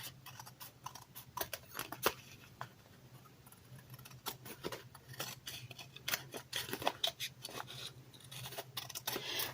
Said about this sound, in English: we're just going to go back and cut off the excess